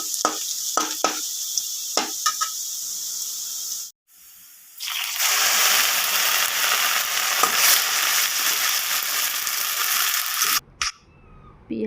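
Sliced onions fry in oil with whole spices and bay leaf in a pan, heard first as a few sharp clicks and knocks, then as a loud, dense, continuous sizzle that stops abruptly near the end.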